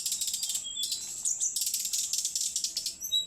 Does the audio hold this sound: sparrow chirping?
yes